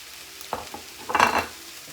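Yakisoba noodles with peppers and green onions are stir-fried in a hot pan, giving a sizzle with a few scraping stirs and a brief louder burst of frying, close and without talk.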